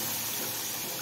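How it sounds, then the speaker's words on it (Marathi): Hot water poured into a pan of brinjal curry, a soft, steady hiss of running liquid lasting about a second. "त्याच्यामध्ये मी पाणी घालून घेते"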